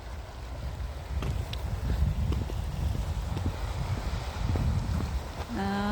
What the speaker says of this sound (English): You can hear the strong currents today, waves.